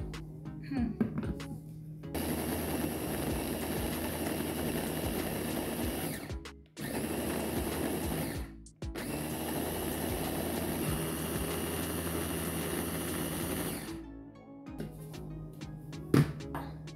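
Kitchen food processor grinding chickpea kofta ingredients with soy and egg, a steady loud motor whir in long runs broken by two brief pauses, then stopping.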